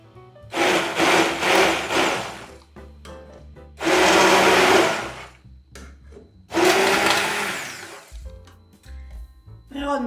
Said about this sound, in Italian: fatta col frullatore a immersione la polpa è molto più fine